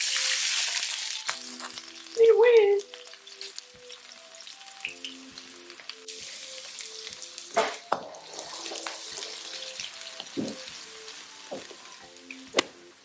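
Onions drop into hot oil for Nigerian gizdodo and hiss loudly at first, then settle into a quieter sizzle broken by clatters and knocks, with tonal beeps scattered throughout.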